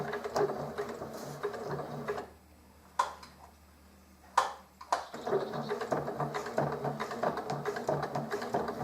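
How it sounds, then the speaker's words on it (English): A sewing machine stitches through plastic on a homemade drop-leg holster for Nerf blasters, a close, rapid mechanical rattle that stops for a couple of seconds with a few clicks before running again. "So the machine's not having any problems at all with the plastic there."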